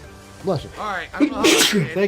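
A person sneezes once, sharply and up close, in the middle of casual talk between people during a gaming chat.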